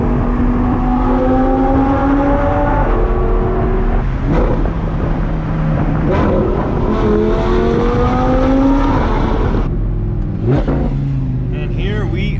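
A car accelerates up a freeway on-ramp and through a tunnel, its engine climbing through gear changes with loud reverberant road and engine roar throughout.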